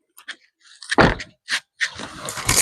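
A car door is shut with one solid thump after some fumbling and shuffling, followed by a few more knocks and rustles close by.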